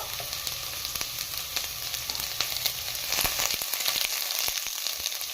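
Onions fry in two spoons of hot oil in Healux cookware for mutton donne biryani, a steady close sizzle and crackle with occasional stirring scrapes, no voices.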